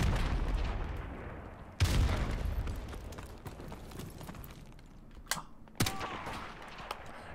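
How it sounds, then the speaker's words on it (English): Gunfire from an AK rifle in Call of Duty: Remastered online multiplayer, with sharp shots at scattered moments and a few heavier bursts over a steady wash of battlefield noise. "AK is a really powerful gun, bro"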